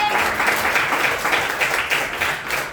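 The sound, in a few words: applause from a class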